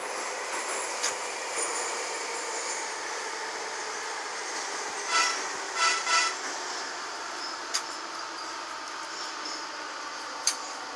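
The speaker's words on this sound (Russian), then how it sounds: "перегон короткий. Сейчас мы будем подъезжать к станции Немига." Minsk metro 81-717 train running through a short tunnel section as it approaches a station, with a steady rolling rumble, a few brief screeches and clicks from the wheels, and sharp metallic pings near the end.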